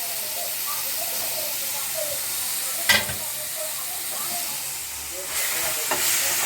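Mint, coriander and green chillies sizzle steadily in a hot pan for a chicken dish, a continuous close frying hiss with occasional stirring knocks and a brief louder clatter midway.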